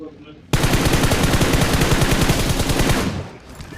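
Automatic gunfire in the mobile battle royale game BGMI, a loud continuous burst of rapid evenly spaced shots lasting a few seconds before cutting off.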